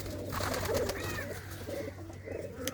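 Well-kept, colourful pigeons in a rooftop loft in a Punjabi village coo softly in low rolling phrases, a little distant, with faint background noise and no voices.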